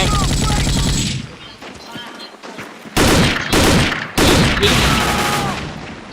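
Heavy gunfire in the Vietnam War video game Vietcong 2, loud sustained automatic bursts at the start, then a lull before several more rapid fusillades crack close and hard through the rest.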